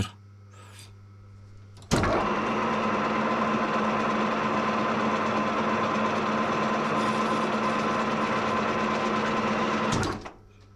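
A metal lathe, with a starter held in its chuck, takes a 1 mm cut: a steady mechanical whir starts abruptly, runs evenly for about eight seconds at close range, then stops.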